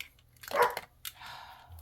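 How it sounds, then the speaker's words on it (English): Dog barking indoors, one sharp close bark followed by a quieter, shorter yelp a moment later, against a near-silent room. "I'd like to forget about Russell's barking, but I can't."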